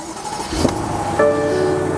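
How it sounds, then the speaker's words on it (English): A 2022 BMW 750i starts up: a short cranking burst, then the engine catches and settles into a steady idle hum, heard close from inside the car. "Let's start up the car. I want to let you guys hear the car real quick."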